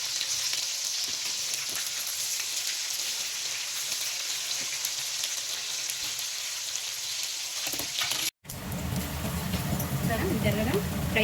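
Mutton pieces frying to golden brown in a pan give a loud, steady, dense sizzle throughout, cut by a brief dropout near the end before the crackle returns even stronger.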